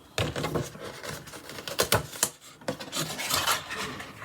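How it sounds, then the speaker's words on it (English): Scissors or a blade cut through paper for a pop-up book, close and dry, giving a run of crisp snips and scraping rustles with short pauses and no voice. "And now I can cut this out too."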